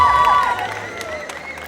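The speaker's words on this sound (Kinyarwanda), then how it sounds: "Amashyi menshi cyane kuri Noella." Applause and cheering from an audience at the Impanga Series Awards 2022, honouring Noella, best actress among the series' young women; a dense clapping wash with shouts and whoops, steady throughout under a constant hum.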